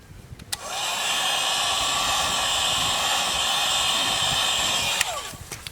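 Heat gun blowing onto tint film on S550 Mustang fog lights, a steady loud airy whoosh that starts after a click, holds for about four seconds, then cuts off with another click.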